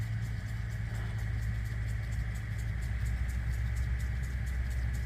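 County road work trucks from a tar and gravel crew idle nearby, a steady low engine rumble with a faint rhythmic ticking and no talking.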